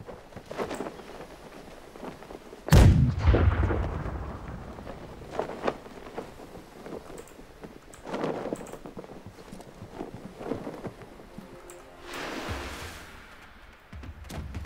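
A single heavy boom of cannon or mortar fire in the pirate ship game Blackwake erupts close and loud, its rumble fading over a couple of seconds, followed by wind, creaking and fainter thuds.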